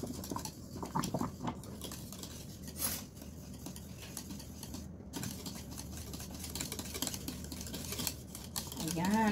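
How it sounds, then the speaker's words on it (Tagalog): A utensil stirs a thickening cream filling for crepes in a pan, giving soft steady scraping and light clinking that runs throughout, under quiet background noise. "kailangan po haluin nyo ng haluin hanggang sa lumapot siya"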